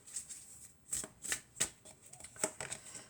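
Tarot cards being shuffled by hand during a reading: a quiet, close sequence of crisp riffling snaps and flutters in irregular bursts, with no talk.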